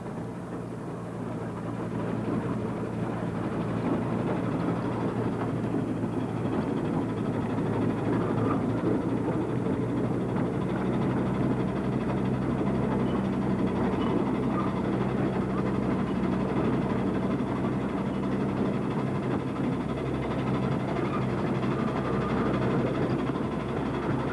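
A small steam locomotive on a bush mill railway works its way up a grade toward a switchback. A continuous low rumble of engine and wagons rolls on steadily at a moderate distance for the whole stretch.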